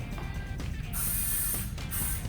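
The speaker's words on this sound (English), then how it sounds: "I'm going to take some of the THERMASHAPE 2-in-1 spray" Two bursts of THERMASHAPE 2-in-1 hair spray hiss from a can during a haircut, each a bright, airy spray lasting under a second, close to the microphone over faint background noise.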